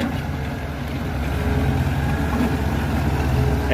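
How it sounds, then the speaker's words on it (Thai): A Kubota M108S tractor engine running nearby at a rocky, muddy digging site, with a steady, loud, low diesel rumble that holds constant throughout. "เอารถไถครับเข้ามาเคลียร์ทางให้"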